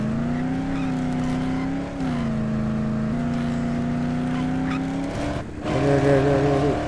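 A car driving in the Dead Island video game, with a loud, steady engine drone that dips briefly twice and then revs up higher near the end.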